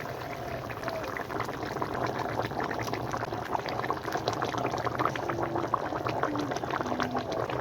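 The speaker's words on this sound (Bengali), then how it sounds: "ঝোলটা ফুটে উঠলে মাছগুলি দিয়ে দেবো।" Yogurt gravy for a rohu fish curry (doi rui) bubbles in a pan with a continuous soft, dense simmering burble and faint popping, close up and without talk.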